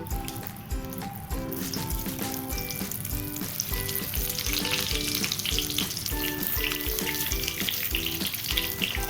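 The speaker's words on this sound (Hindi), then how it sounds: "चलिए सारा बैंगन एक ही साथ डाल देते हैं फ्राई होने के लिए।" Eggplant (baingan) pieces shallow frying in hot oil, a steady loud sizzle throughout with repeated clinks of a utensil against the pan and background music.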